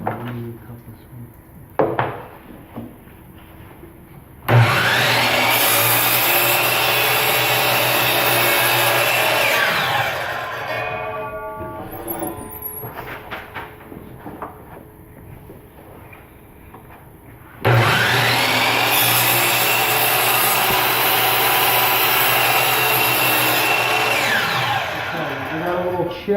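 A saw cuts through a piece of wood in a woodworking project. Two long, loud, steady bursts of rasping cutting are separated by a quieter pause with brief knocks and some talking.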